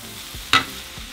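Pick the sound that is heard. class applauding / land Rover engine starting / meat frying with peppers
meat frying with peppers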